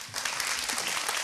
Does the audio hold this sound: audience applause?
yes